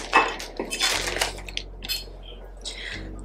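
Oil dispensers from a Target shopping haul clink and rattle as they are handled, with several bright glassy knocks and taps close by, then quieter rustling.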